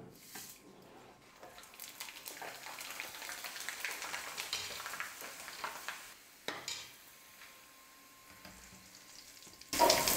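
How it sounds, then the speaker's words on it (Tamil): Chips for a Tamil mixture snack fry in hot oil with a steady, fairly quiet sizzle and crackle that continues throughout, ending in a louder clatter. "இப்போ வந்து இந்த சிப்ஸை கொஞ்சம் கொஞ்சமாக போட்டு நம்ம எண்ணெயில் போட்டு பொரிச்சு எடுத்துக்கலாம்"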